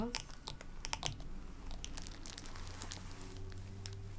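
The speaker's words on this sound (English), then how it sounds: "I'm gonna lay cards out into 3 piles." Oracle cards being laid out into three piles during a relaxing spiritual session, with soft repeated card slaps and shuffling rustles, dense at first and then tapering into quieter handling, close and intimate.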